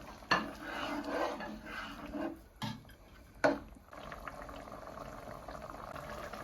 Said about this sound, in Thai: ใส่พริกลงไปแล้วรอ น้ำเดือดสักหน่อยนะคะ